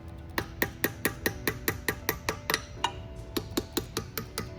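Rubber mallet tapping pins back into a SUHNER MAX machining unit during a belt change, a steady run of sharp, evenly spaced knocks, about four per second, close and clear over a faint low machine hum.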